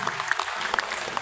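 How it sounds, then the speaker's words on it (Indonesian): Brief burst of applause from an audience at a Ramadan fast-breaking gathering of the UPI YPTK university community in Padang, with quick, crisp claps over a moderate, room-filled wash lasting just over a second. "Tepuk tangan untuk kita semuanya."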